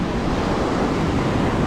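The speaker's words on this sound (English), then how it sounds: "The waves them massive." Big ocean waves break and surge at Shelly Beach in Ballina, a loud, continuous wash of surf with wind buffeting the microphone.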